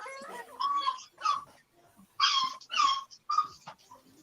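A dog gives several short, breathy whimpering whines in bursts close by, with brief pauses between them, in an indoor setting with no talking.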